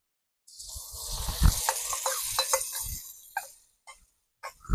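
Egg posto curry, made with a stone-ground cashew and poppy seed paste, is stirred in a pan: a few seconds of close scraping and soft sizzling, then scattered short clinks and scrapes after a pause.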